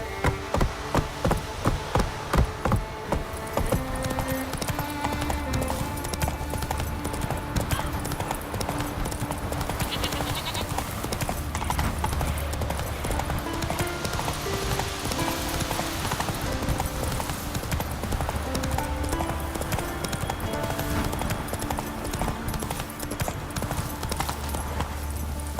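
Horse hooves clip-clop at a rapid galloping rhythm in The Witcher 3 on Skellige, loud and continuous with game music underneath, after a few sharper opening hoofbeats.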